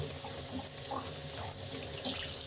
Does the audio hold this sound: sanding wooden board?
no